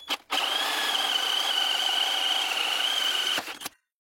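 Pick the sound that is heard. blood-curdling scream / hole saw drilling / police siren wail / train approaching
hole saw drilling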